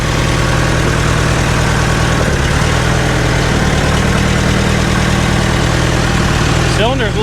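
An old forklift engine idles with a steady low mechanical rumble while its hydraulics are tested, a brief whine of the hydraulic pump rising near the end; people talk over it.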